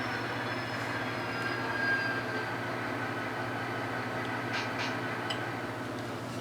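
An HO scale model train locomotive's onboard sound system gives off a steady diesel idle hum with faint high whistle-like tones and a few brief metallic clicks, moderately loud and without talk.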